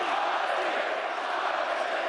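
A boisterous home Latvian crowd roars steadily at a boxing match, a dense, continuous wall of cheering and shouting that holds at the same loud level throughout, with no single voice standing out.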